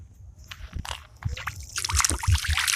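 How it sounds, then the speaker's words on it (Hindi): A hand slaps and sloshes through water close by, a few uneven splashes building toward the end. "बारिश को नहीं, इस पानी को महसूस कर रहा हूँ। छपाक।"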